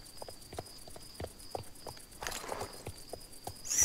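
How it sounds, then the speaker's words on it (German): Horse hooves in the video game Star Stable Online clop along at a steady walking rhythm, moderately close, with a faint rustle and a constant high game tone behind them. "Pferd geht Richtung Stall nach Hause."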